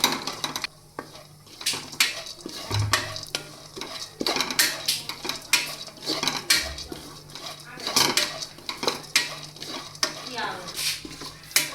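Dry fruits roast in a pan while a spoon stirs them, producing repeated clinks and scrapes of metal against the pan in an irregular rhythm over a soft sizzle, close and moderately loud, with a little speech.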